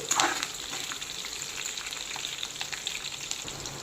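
Green chillies fry in hot oil with a steady, close crackling sizzle, louder for a moment at the start and then even, with no voices.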